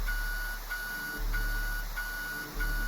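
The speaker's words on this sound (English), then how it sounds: "pulling the fire alarm seemed like the correct choice" A fire alarm rings in the video game Intravenous II, a steady looping electronic beep-tone repeating about every 0.6 seconds, loud and continuous with a low rumble beneath and no talk.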